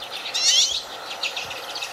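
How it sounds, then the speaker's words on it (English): Bird calls from a redpoll, a short run of bright, high twittering notes that swell near the start and then carry on more softly for about two seconds, fairly close with no voices. "Redpoll."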